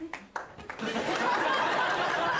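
Audience applause at a French stand-up comedy show, starting with a few scattered claps and a brief chuckle, then swelling into steady, dense clapping that fills the room for the rest of the clip.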